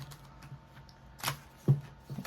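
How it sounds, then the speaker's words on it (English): Tarot cards shuffled by hand: a couple of brief, crisp riffling bursts, close and quiet, separated by near silence. "a couple more shuffles here for you, Capricorn"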